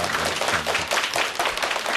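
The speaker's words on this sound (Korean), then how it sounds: "두 번째 강의 큰 박수와 함께 또 청해 듣도록 하겠습니다" A lecture hall audience at a televised health talk gives a big, dense round of applause that fills the room at a steady, loud level.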